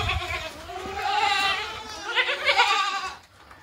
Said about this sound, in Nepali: बाख्रा यता छ